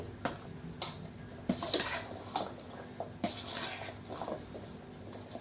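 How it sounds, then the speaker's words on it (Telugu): Fenugreek and mustard powder being mixed for mango pickle before oil goes in: light, irregular scraping and clinking of a spoon against a bowl, close but quiet, no talking. "ఇప్పుడు ఒకసారి ఆయిల్ వేయకముందే ఇవన్నీ మనం బాగా కలుపుకోవాలండి"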